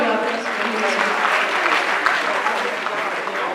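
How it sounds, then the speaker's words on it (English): Audience applause at a university public lecture, a steady dense clapping from a sizable crowd filling the room for several seconds, with some voices mixed in. "A round of applause for him too."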